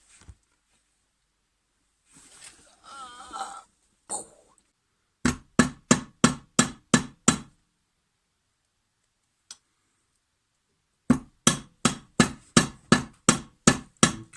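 A puukko knife blade is hammered flat on an anvil, heard as two bursts of six or seven sharp, evenly spaced metallic strikes, close and loud, separated by a pause and a single lighter tap, with a short stretch of quieter handling before the first burst.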